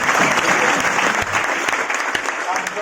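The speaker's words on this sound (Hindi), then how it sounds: "एक बार सुमित जी के लिए जोरदार तालियां" Loud audience applause for a guest named Sumit at a gathering, vigorous continuous clapping from a crowd with scattered sharper claps and some voices mixed in.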